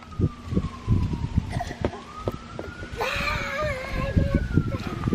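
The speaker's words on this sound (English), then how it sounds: "it's an emergency vehicle, fire truck, ambulance." A wailing siren rises and falls nearby, partly masked by a child chattering and adults talking over it.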